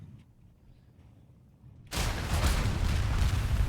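In the flight game Aces of Thunder, a sudden loud, broadband explosion bursts in after a quiet stretch and keeps roaring as a sustained rumbling blast to the end.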